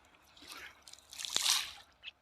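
Sanitizer medicine poured into fish pond water gives faint, close splashing and trickling, with soft drips and one sharper splash near the end.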